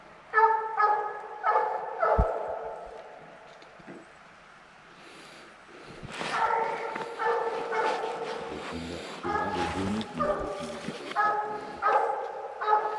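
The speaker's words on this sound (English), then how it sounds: "What dog's that down over there, Timmy?" Hunting dogs bark in bursts at a coyote or fox pro hunt, a cluster early on, then a long, busier stretch of repeated baying and yips, moderately close, with no talk over them.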